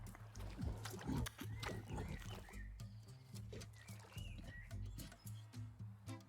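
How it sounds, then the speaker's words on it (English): A pig in the game The Last Campfire grunts and oinks in a quick, repeated series of short snorts, close and fairly clear over a soft, steady musical background. "The pig was joyous."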